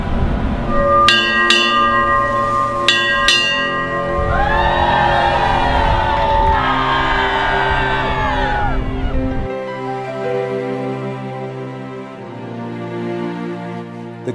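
Ship's bells struck in two quick bursts aboard an expedition vessel, followed by a crowd of crew cheering and whooping loudly, then a sustained tonal hum as the cheering fades.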